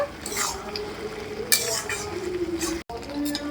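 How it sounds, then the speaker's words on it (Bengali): A spoon stirs soaked raisins and cashews into a pan of papaya jelly chutney, making scraping, clinking stirs with a soft sizzle beneath, close by and without speech. "দিয়ে দেবো কিশমিশ আর কাজু বাদাম এগুলো আমি জলে ভিজিয়ে রেখেছিলাম দিয়ে ভালো করে নাড়াচাড়া করে নেব"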